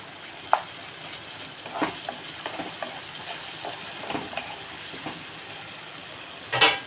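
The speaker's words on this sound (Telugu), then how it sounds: "ఇందులో కొంచెం అల్లం వెల్లుల్లిపాయ పేస్ట్ వేస్తున్నాను" Ginger garlic paste is added to a hot pan for a bottle gourd curry and sizzles quietly. A soft, steady frying hiss is broken by a few light clicks from stirring, ending in a brief louder spatter.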